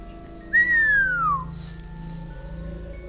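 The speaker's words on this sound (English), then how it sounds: "Achi gave a whistle of amazement." A single rising-then-falling whistle of amazement in the video game 428 Shibuya Scramble, loud and clear for about a second over a soft background hum.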